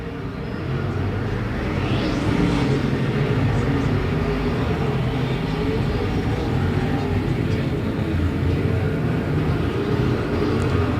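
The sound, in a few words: IMCA modified race cars racing at Perris Auto Speedway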